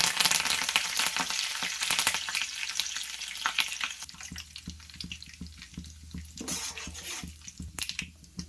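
Mustard seeds, urad dal and a generous handful of curry leaves fry in hot oil, crackling and sputtering in a loud burst that settles into a steady sizzle with irregular pops, close up and without talk.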